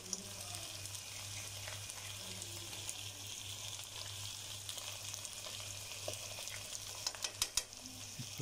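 Lahori mutton karahi is stirred and mixed in a pan at home, giving a soft, continuous sizzle with a low hum underneath. A few quick clinks and scrapes come near the end.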